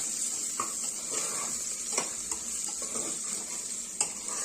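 A spoon stirs a dal khichdi mixture with potato in a pan, soft scraping strokes over a faint sizzle with occasional clinks against the metal, fairly quiet and close.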